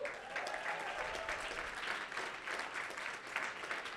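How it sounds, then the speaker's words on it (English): A community tech meetup audience gives a round of applause, a continuous, fairly faint wash of many hands clapping that holds evenly for several seconds with no clear talk over it. "a round of applause for Noemi"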